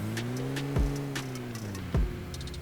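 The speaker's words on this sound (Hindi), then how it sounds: "भाई पीछे से एक गाड़ी की आवाज़ आती है।" A vehicle engine hums steadily behind the player in a battle royale game, a low droning motor tone that holds through the clip, broken by two sharp thuds and scattered ticking clicks.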